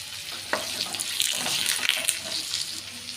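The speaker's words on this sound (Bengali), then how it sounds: "তেজপাতা শুকনো লঙ্কা ফোড়ন দিলাম" Mustard seeds, bay leaf and dried chili hitting hot oil, giving a steady close crackling sizzle with small sharp pops scattered throughout.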